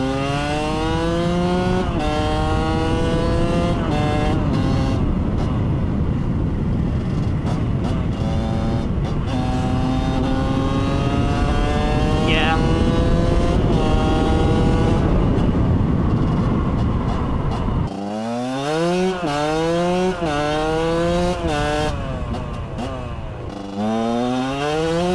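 A two-stroke project motorcycle engine runs loud and close, its buzzy note rising and falling through repeated revs, with a sharp throttle blip near the end.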